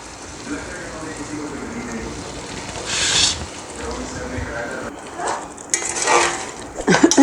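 Tomatoes tipped into a cooking pot on a home stove, followed by metal utensils scraping and clinking against the pot in short bursts over a sizzling background, with someone talking at times.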